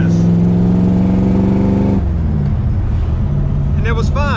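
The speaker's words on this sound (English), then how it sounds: "I'm in a gear like this at 3rd gear. We're cruising, and I just give it a little bit of gas." A car in third gear, cruising, gets a little gas: a steady harmonic engine drone holds for about two seconds, then shifts to a rougher, lower tone, with a voice talking faintly over it near the end.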